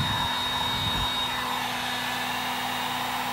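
A heat gun blows hot air onto the badge of a 2015 Audi A3, making a steady, close whooshing hum with a constant tone that runs throughout.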